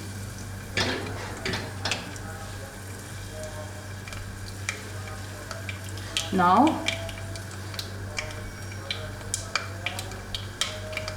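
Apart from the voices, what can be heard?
spices popping in hot oil with asafoetida for khichdi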